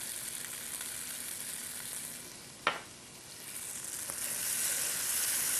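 Tofu dusted with paprika browns in a hot pan, giving a steady, fairly loud broadband sizzle throughout, with one brief sharp crackle midway and the frying growing slightly brighter toward the end.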